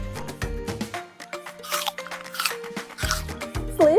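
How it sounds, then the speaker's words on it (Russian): A small toy carrot from a HrumHrumChiki plush toy set gives a series of crisp, close crunching crackles in uneven bursts, loud and dry, with no speech over them. "Слышишь, какой хруст? Настоящий хрум-хрумчик."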